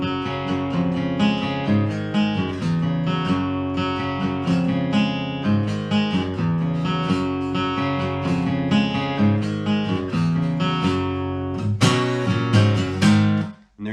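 Solo acoustic guitar plays a song, with rhythmic strummed chords and single-note riffs, close-miked and continuous for about fourteen seconds before cutting off abruptly, no voices.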